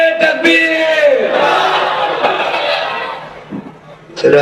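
A large crowd at a religious gathering shouts a Takbir chant in unison, loud and swelling at first, then fading into scattered voices before a man's speech returns.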